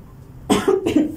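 Two short, sharp coughs close by, one right after the other, following a brief quiet moment.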